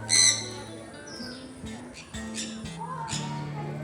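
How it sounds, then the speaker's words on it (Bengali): Many birds in a feeding enclosure at Rabdentse, Sikkim, chirp and call close by: bright tweets, a rising squawk and repeated low cooing notes overlap at moderate volume. "অসংখ্য পাখি আছে এই জায়গাটার মধ্যে"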